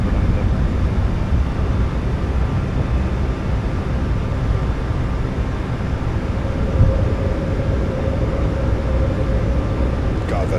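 A Boeing 737 MAX 8 climbing after takeoff in a flight simulator, heard as a steady, loud broadband engine roar that fills the cabin without letup, with a faint rising tone near the end.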